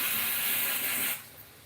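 A kitchen pressure cooker lets off a loud, rushing hiss of steam that cuts off abruptly after about a second, leaving a fainter residual hiss.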